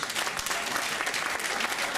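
Audience applause for three presenters at a science centre talk, a dense steady wash of many hands clapping at once, even and sustained for the full stretch with no voices rising above it.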